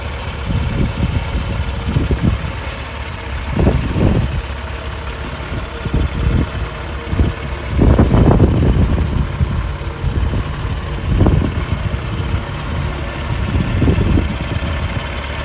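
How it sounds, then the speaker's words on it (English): A 1971 Triumph GT6's 2-litre straight-six engine with twin Stromberg carburettors idles steadily up close, a low rumbling hum with periodic throbbing pulses and slight rev changes. "Straight 6 2-litre Triumph engine with twin Stromberg carbs. Ticking over."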